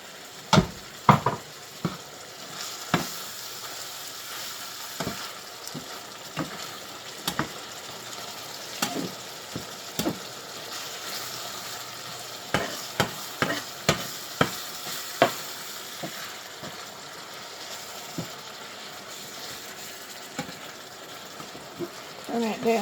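Beef broth sizzles in a frying pan for Mongolian ground beef noodles, a steady low hiss broken by frequent sharp clicks and scrapes of a utensil stirring the pan.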